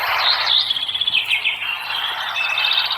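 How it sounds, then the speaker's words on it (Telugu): Birds chirp and tweet steadily at the Nishkalank Mahadev temple at Koliyak village near Bhavnagar, Gujarat, where cranes and other birds gather for grain; a dense, bright chorus of calls continues throughout with no talking. "వచ్చిన భక్తులు వేసినటువంటి చిరుధాన్యాల కోసం కొంగలు, పక్షులు రకరకాలవి అక్కడికి వస్తాయి."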